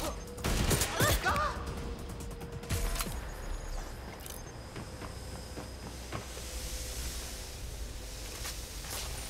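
Gunfire in the Watch Dogs: Legion video game set in London, a burst of loud shots near the start and another around three seconds, followed by quieter mechanical hiss and scattered pops.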